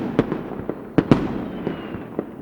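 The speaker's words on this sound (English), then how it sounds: "You could pretend that your neighbors are setting off fireworks outside your house." Several sharp fireworks pops and crackles burst at irregular intervals, moderately distant, over a faint background hiss.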